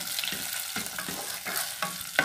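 Garlic cloves sautéing in a pan for cod moqueca, with a steady broadband sizzle overlaid by several rhythmic stirring scrapes roughly every half second, close and moderately loud.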